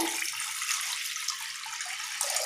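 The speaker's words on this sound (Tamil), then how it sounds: "நான் இதில் ஒரு செம்பளவு தண்ணி சேர்த்திக்கலாங்க" Water pours steadily into a cooking pot, a continuous bright splashing stream for a couple of seconds before it stops abruptly, with no talk over it.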